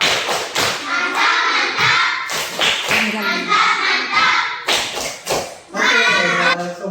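A classroom of children clapping together for a group that has just presented, loud and close rhythmic bursts of claps and thumps in several rounds, with children's voices mixed in.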